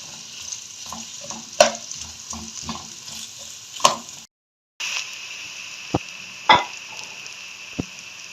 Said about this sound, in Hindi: अब प्याज को मैं 4 मिनट ऐसे ही भूनती हूँ।